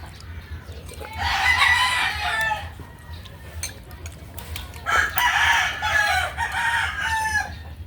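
A rooster crows twice, loud and drawn-out, with a low steady hum running underneath.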